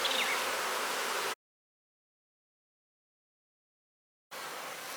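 Young nurse bees at a small hive split give off a dense, steady buzz, loud and close, that cuts off abruptly into silence for about three seconds and then resumes.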